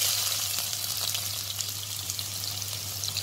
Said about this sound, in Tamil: எண்ணெய் காஞ்சிச்சு, கடுகு போட்டுக்கோ. கடுகு பொரிஞ்சிச்சு